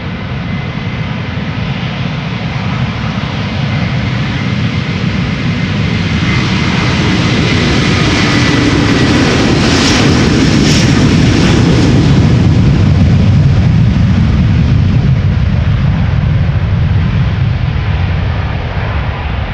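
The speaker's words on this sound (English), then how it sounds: "The Delta is already spooling up." Jet engines of a Delta Airlines Airbus A330 spool up for takeoff at Amsterdam Schiphol, a loud, close, continuous roar that builds steadily and holds, with no voices over it.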